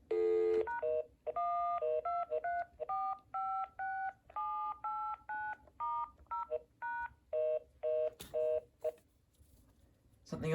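Keypad tones from a Panasonic KX-TG2583S 2.4GHz cordless phone, a rapid run of about twenty short dual-tone beeps in uneven rhythm, close and clear, with a few clicks near the end.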